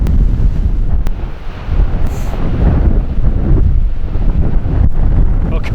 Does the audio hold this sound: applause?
no